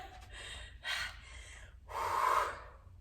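Heavy breathing during a dumbbell home workout: three sharp, close gasping breaths, the last one longest and loudest, with a low hum underneath.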